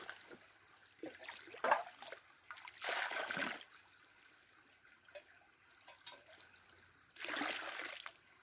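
Creek water trickling outdoors in winter, a soft intermittent flow with brief louder splashing bursts, close by and fairly quiet, with no talk.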